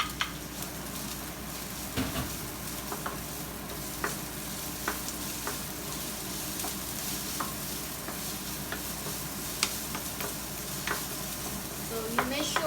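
Onion and garlic sautéing in a pan for chicken lo mein, a continuous close sizzle broken by frequent spatula scrapes and clinks against the pan, with no speech.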